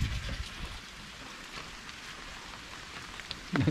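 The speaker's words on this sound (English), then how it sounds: "It's only rained for 5 minutes." Soft, steady rain patters on a surface, a quiet continuous hiss with occasional louder drops and bumps near the start and end.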